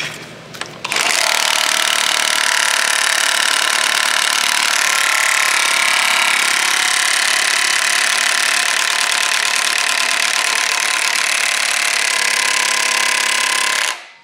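A battery-powered impact gun works on an engine bolt, a loud, steady whirring hammer that runs without a break for about thirteen seconds after a brief start, then cuts off.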